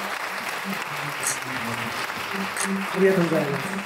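Applause from an audience at a motorsport presentation event for a racing driver, moderate and steady for a few seconds beneath a host speaking briefly in Japanese.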